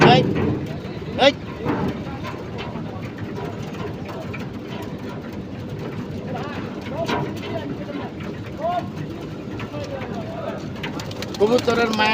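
Pigeons coo and flutter in a loft, with soft low calls scattered throughout under near continuous talking, plus occasional bumps and a faint engine hum in the background.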